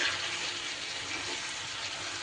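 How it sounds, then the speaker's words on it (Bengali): Water is poured into a pan of pointed gourd and spices, a continuous close splashing pour with no talk. "খুব অল্প পরিমাণ হাফ কাপের মতো জল আমি এখানে অ্যাড করব"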